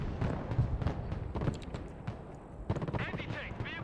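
Gunfire from units in the military strategy game Broken Arrow: a run of sharp shots and short bursts at mid distance, some faint and some louder, with a crackling rattle toward the end.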